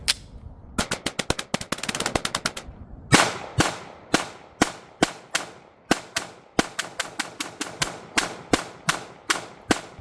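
Rapid 9mm pistol fire at a TCRT steel target at an outdoor range, many sharp loud shots in quick strings and paced bursts, each crack clean and close with a short ringing tail, no talk.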